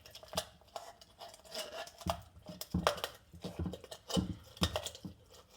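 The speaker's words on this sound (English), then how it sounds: "The noises are really funky because you're cutting bones" Scissors or shears crunch through a raw chicken's backbone while spatchcocking it, giving a series of sharp, irregular snips and cracks close by, with no talking.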